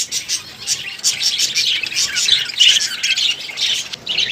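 A colony of red-eyed budgies chirps and squawks continuously, a busy overlapping chatter of bright calls, fairly close and loud.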